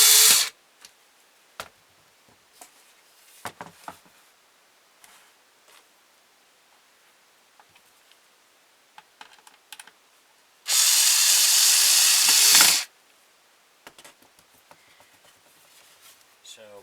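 A power tool shapes and sands a carved wooden ventriloquist dummy in a burst lasting about two seconds, a loud close whine amid scattered light knocks and handling clatter.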